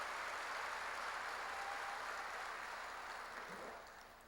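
A church congregation applauding together, a dense steady wash of clapping that holds evenly then tapers off toward the end, heard from within the room.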